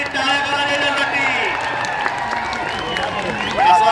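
Spectators clap and cheer at a village wrestling ground during a traditional kusti bout, a steady wash of applause heard under an announcer's loud talk.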